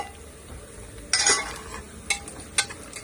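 Onion and green chillies roast in a pan under a low sizzle, broken by three sharp bursts of spoon stirring and scraping against the pan, close and alone.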